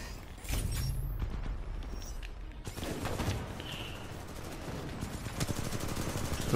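Automated defense turret in Titanfall 2 firing in sustained bursts of rapid gunfire, loud and close, with mechanical clatter and a steady roar continuing throughout.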